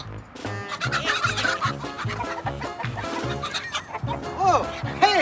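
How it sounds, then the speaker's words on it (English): Chickens cluck close by in a busy, overlapping chorus of short rhythmic calls, with some higher squawks and gobble-like sounds toward the end. "Chickens."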